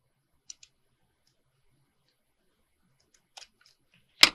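A few quick scissor snips cut paper for a beach-themed altered book, faint isolated clicks spaced apart in a quiet room, with a louder final cut at the end.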